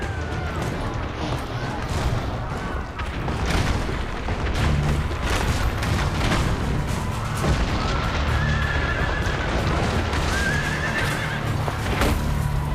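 A horse neighs and whinnies amid booming cannon fire, explosions and clip-clopping hooves during a siege battle in a game demo shown at Ubisoft's 2010 E3 press conference. The scene is dense and loud, with voices partly buried in the din.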